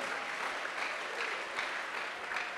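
A church congregation claps and applauds together in a steady, dense wash of hands, continuous and fairly close, with no voices standing out.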